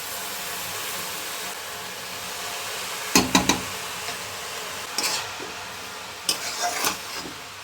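Chopped coriander leaves cooking with salt in a pan without oil, a soft steady hiss broken by several sharp clatters of a utensil scraping and stirring against the pan.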